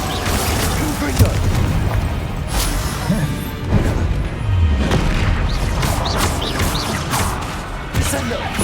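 Confringo fire-blast spells in Hogwarts Legacy combat, several booming impacts and crackling bursts in quick succession amid dense battle clatter, with a voice speaking throughout.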